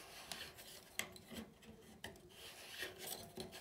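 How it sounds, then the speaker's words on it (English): The plastic filter cap on a Hoover H-Wash & Dry 500 washer-dryer is turned anti-clockwise by hand, giving close scraping, rasping rubs with a few sharper clicks spread across the clip. "And you just got to turn it anti-clockwise."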